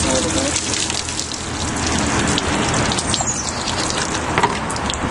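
Water rinses a hazy headlight lens during a sanding restoration, giving a constant hissing, splashing wash that stays fairly loud and unbroken for the whole stretch.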